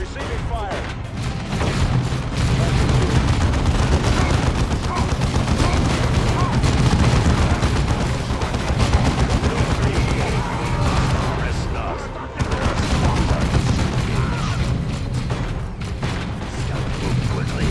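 Dense gunfire and booming explosions from the Warhammer 40K Dawn of War II video game, continuous rattling bursts under battle noise with game voices mixed in.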